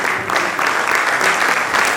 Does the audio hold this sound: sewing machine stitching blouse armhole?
no